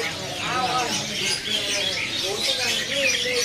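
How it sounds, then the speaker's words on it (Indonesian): Nias myna, a caged bird at a market bird kiosk, gives repeated whistled calls over a busy, noisy background. "Ready di sini burung jalak nias."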